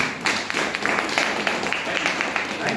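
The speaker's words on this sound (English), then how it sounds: "Give each other a wonderful applause for all of you being here." An audience at a leadership camp applauds, giving dense, moderately loud clapping that continues steadily throughout.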